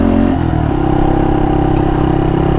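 A Honda Monkey 125 motorcycle rides along a dusty gravel road, its engine loud and close with a steady mid-pitched drone and a shift in tone early on, tyre clatter underneath, no talking.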